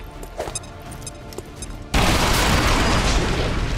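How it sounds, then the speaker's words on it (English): Fuel tanks explode in XCOM 2: War of the Chosen, starting with a couple of faint gunfire pops and then a sudden, loud, broadband blast that continues as a sustained roaring rumble to the end. "You weren't kidding when you said those tanks could explode."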